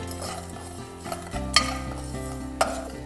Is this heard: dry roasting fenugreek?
yes